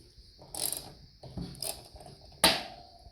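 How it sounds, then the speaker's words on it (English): A 13mm socket wrench works the top bolt of the left front brake caliper on a BMW R1250 GS motorcycle, giving a few quiet, close metallic ratcheting clicks and clunks with short pauses between them. "you'll need a 13mm socket. Take the top bolt out of your left front brake caliper."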